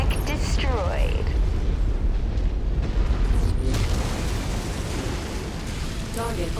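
A mech blowing up in the MechWarrior 5 video game, a loud booming burst with rumbling debris, heard over dense battle noise and game voice chatter.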